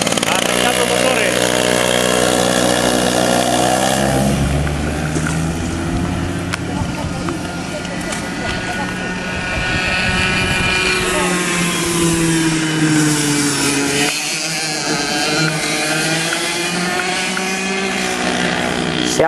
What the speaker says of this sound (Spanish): Arrancando motores.